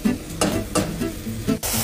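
Instant noodles dropped into a pot of boiling water, bubbling and sizzling in several quick bursts with a stirring texture, close and fairly loud, with no talking.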